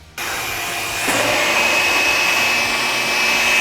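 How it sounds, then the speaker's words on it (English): A vacuum cleaner switches on abruptly and roars steadily while sucking out a metal gas tank, its loud whine rising slightly in pitch as the suction settles and holding with no talk. "all I gotta do is fire up this vacuum cleaner."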